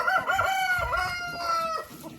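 Chickens cluck and make drawn-out, wavering calls close by, a few hens vocalizing together in a brief burst.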